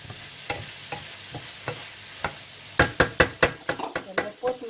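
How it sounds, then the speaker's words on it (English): Food sautéing for a gluten-free potato lasagna, a soft steady sizzle broken by a run of sharp utensil scrapes and knocks against the pan, growing louder and quicker toward the end. "Then you saute more."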